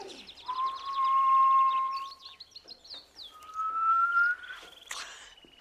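A person whistles a few long, steady tones with some rising chirpy slides in between, close and clear in a quiet setting.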